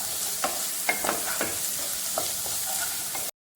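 Tomato and onion masala sizzles in a pan over high flame, a steady close hiss punctuated by repeated scrapes and taps of a spoon stirring, ending in a brief silence.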